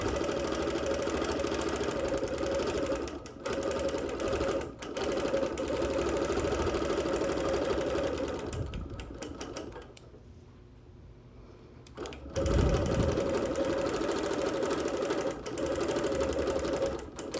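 Close and loud, a sewing machine quilts on wool with clear thread, its steady rhythmic hum running continuously, dropping out briefly near the middle, then resuming with no voices.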